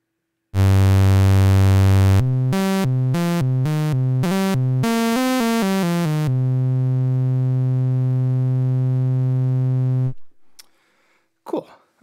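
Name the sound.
synthesizer oscillator sync played on keyboard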